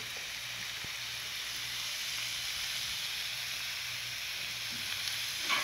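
Carrot and already-cooked chicken with onion fry in a pan over moderate heat, giving a soft, steady sizzle and hiss that continues evenly and quietly without any speech.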